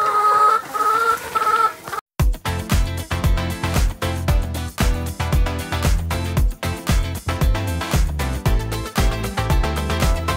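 Hundreds of hens cluck and crow inside a large plastic-walled chicken tent, a dense continuous chorus of rhythmic clucks close by, with no talking.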